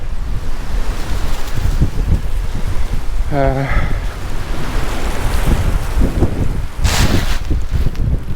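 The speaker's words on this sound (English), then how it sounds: "it's going to be very windy today" Strong wind roars and buffets the microphone continuously, with surf-like rushing underneath and a brief voice breaking through midway.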